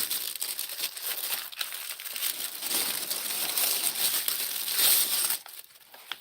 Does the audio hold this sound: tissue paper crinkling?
yes